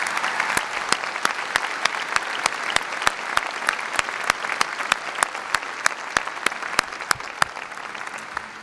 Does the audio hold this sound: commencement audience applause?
yes